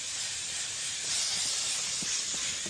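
Constant close hiss of a steam cleaner working inside a lorry cab, steady and loud with a few soft thuds of handling beneath.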